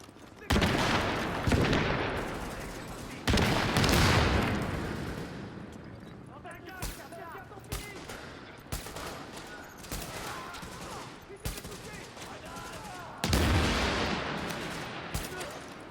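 Gunfire against enemies in the video game The Division comes as loud bursts of automatic shots and explosive blasts, separated by quieter stretches.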